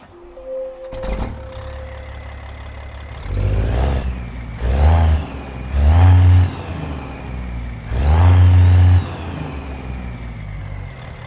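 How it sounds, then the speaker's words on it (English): Peterbilt 379 truck with a CAT 3176A diesel engine starting in American Truck Simulator: a starter crank catches into a loud idle, then several heavy revving bursts with deep rumbling between them, no talk. "Zeemods CAT 3176A engine, which I will fire up right now"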